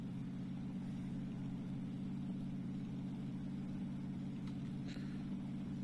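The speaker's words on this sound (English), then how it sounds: "I'm just going to keep driving until the next circle goes and then make a call" A car driving in the PUBG video game, with a steady, low engine drone that holds evenly throughout and no talking over it.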